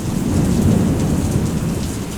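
Heavy rain pours steadily on a stormy day, with a low thunder rumble rolling beneath the dense, continuous hiss; no voices.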